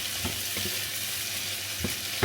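Cherry tomatoes frying in a pan, a steady close sizzle with a few soft stirring scrapes and clicks, no talking.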